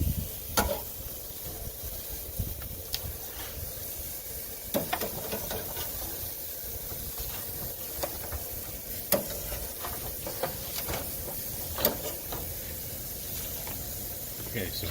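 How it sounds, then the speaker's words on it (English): Plant-based burgers sizzle on a smoker grill heated to 450 degrees, a steady frying hiss running throughout with scattered pops and crackles, close and moderately loud, with some faint talk in the background. "You hear that sizzle? They sizzle like meat, even."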